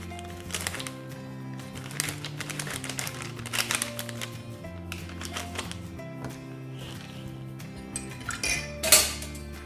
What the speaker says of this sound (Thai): แล้วก็คนให้เข้ากันนะคะ